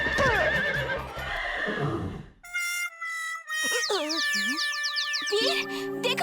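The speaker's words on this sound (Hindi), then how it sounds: "वीर, देखो, बंटी ने घोड़े को टक्कर मारी" Cartoon horse whinnying loudly after being bumped in an animated kids' racing story, with a bright, boingy comic neigh following a burst of frantic cartoon voices and effects, up close and prominent.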